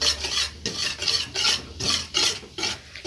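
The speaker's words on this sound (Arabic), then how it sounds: "المضرب اليدوي يا حبايبي في ايدي كده علشان ما تكلكحش من البشاميل بتاعنا" A hand whisk beats béchamel sauce enriched with ghee in a pot for macaroni béchamel. About seven brisk, rhythmic swishing strokes sound close and clear, evenly paced, with no one speaking.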